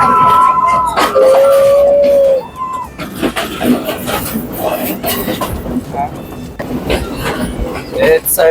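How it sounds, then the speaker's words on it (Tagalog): Inside a passenger train travelling from Ella to Nuwara Eliya in Sri Lanka, a loud whistle sounds, then wheels rumble and clatter steadily while people talk over the noise. "It's a really long train ride. We are still here inside the train."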